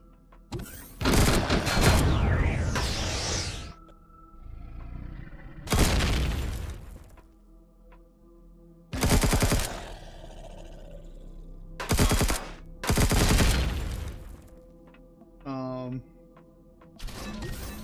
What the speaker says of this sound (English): And of course I'm using a cheat gun